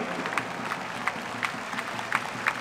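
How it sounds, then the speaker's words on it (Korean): Stadium crowd applauding after being asked to stand and honor a Korean War veteran at a football match, producing a steady wash of clapping with sharper individual claps rising through it. "모두 함께 자리에서 일어나 존경의 박수를 부탁드리겠습니다"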